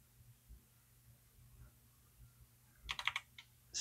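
A short burst of computer keyboard typing while entering a Windows command, a few quick clustered keystrokes near the end after a quiet low hum, no talking.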